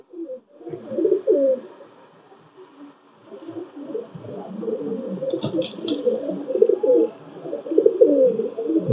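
A male Saudi Bilal line teddy pigeon coos in repeated low, throaty rolls, close and fairly loud, with a brief sharp rustle or flap midway and steady cooing continuing to the end.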